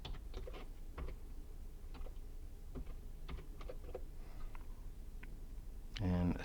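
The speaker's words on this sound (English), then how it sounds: "I'm just going to type in a brochure" Fingers tap a computer keyboard in short bursts of close, light clicks, sparse and irregular, with a brief louder rustle at the very end.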